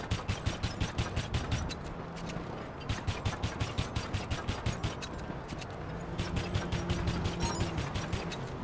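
Rapid shots from the ceramic pistol, fired unsuppressed in GTA Online, in tight fast bursts with brief pauses between them, loud and up close over a low steady background hum.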